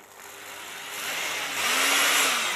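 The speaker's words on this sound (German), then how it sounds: "Ich habe die fetteste Maschine, die ich finden konnte, genommen. 1000 Watt." A converted 1000-watt electric drill spins up in first gear, a steady loud motor whine that grows and swells over a couple of seconds, heard alone without voices.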